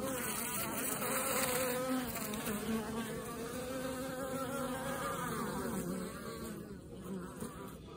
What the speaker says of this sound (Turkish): kovana giren yaban arısının kovandan atılışı arkadaşlar